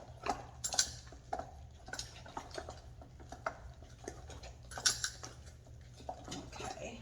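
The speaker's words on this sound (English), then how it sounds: "So we're gonna stir hers up and get that all ready to go." A spoon scrapes and clinks inside a jar of Becky's sourdough starter during bread making: irregular, close metallic taps and scrapes over about seven seconds, fairly quiet over a low steady hum, with no talking.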